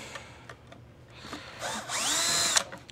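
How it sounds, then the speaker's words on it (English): A power drill whirs in short bursts while breaking down a dusty Dyson DC17 vacuum, rising into a longer high-pitched whine near the end, close and without talk. "there's so much dust, it was jamming my drill bit"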